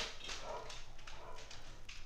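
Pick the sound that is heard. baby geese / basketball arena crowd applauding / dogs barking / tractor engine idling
dogs barking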